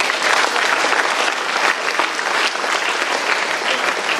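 Steady, dense applause from an audience at a live event, a sustained crowd clapping at even loudness with no gaps from start to finish.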